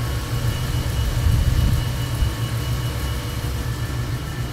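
A 1978 Ford F350 V8 tow truck engine idles with a deep, steady rumble, swelling briefly at the start before settling into an even low drone.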